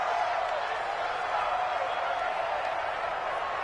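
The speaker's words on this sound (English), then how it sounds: "Listen to this crowd now." Steady roar of a stadium crowd in a PS4 football video game broadcast, cheering and murmuring continuously at a distance during a tense two-point conversion, with no break across the stretch.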